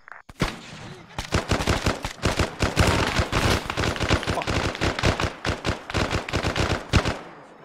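Dense gunfire rings out in a jungle battle in ARMA 3 with the SOG Vietnam 1970 mod, as rapid automatic bursts and single cracks pile into a loud, continuous fusillade that lasts several seconds.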